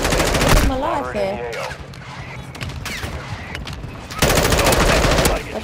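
Rapid automatic gunfire from a Call of Duty match rattles loudly in sustained bursts, opening and closing the moment, with players' excited voices and game radio chatter in the middle stretch.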